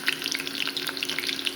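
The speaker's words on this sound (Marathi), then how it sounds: "तेल म्हाजें तापता. आतां तितून घालता हांव लसूण," Garlic dropped into hot oil for a dal, a dense crackling sizzle with quick popping spatters throughout, close and steady with no voices.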